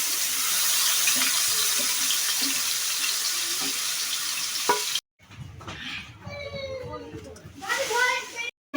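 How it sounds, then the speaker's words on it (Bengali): Spices tipped into hot oil in a pan fry with a loud, steady hiss and crackle, then give way to quieter clattering with voices talking. "এখন যে মশলাগুলি ঢেলে দিব।"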